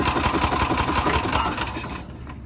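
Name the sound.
Yamaha golf cart engine revving as the gas is pressed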